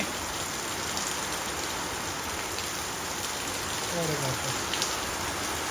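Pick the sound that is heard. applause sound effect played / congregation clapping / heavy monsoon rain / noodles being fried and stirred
heavy monsoon rain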